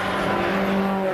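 MG Cup race cars at Silverstone pass close by, giving a loud, sustained engine drone with strong tonal harmonics over a brief moment.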